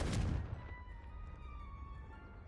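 A Confringo spell explosion from Hogwarts Legacy hits with a short, heavy blast at the very start, then fades into a faint rumbling tail and a soft lingering tone.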